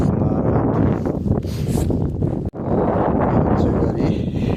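Strong gusty wind rushes over snow around a car stuck in deep snow near a house in Poland, a loud, steady roar with a brief dip partway through.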